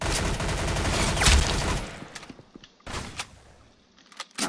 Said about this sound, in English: There's our last gun, the minigun.